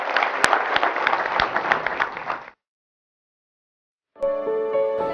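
A crowd at a Covid warriors honour ceremony in Karjat claps in a dense burst for a few seconds. The clapping cuts to silence, and then tonal music starts.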